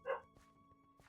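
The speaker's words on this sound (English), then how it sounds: "My dog is going nuts." A pet dog gives one short sharp bark nearby, followed by faint thumps and room noise.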